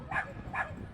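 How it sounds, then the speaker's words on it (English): Mercury, a dachshund at a wiener dog race at Canterbury Park, lets out two quick yipping barks, close and moderately loud, over low background rumble. "All that barking's from Mercury, who undoubtedly is ready to go."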